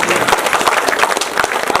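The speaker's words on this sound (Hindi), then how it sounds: "अच्छे से तालियां बजा करके इनका स्वागत करेंगे" An audience claps to welcome an advocate introduced as a guest at an Independence Day (15 August) program. The sound is a dense, steady patter of many hands, fairly loud and continuous, with no clear speech over it.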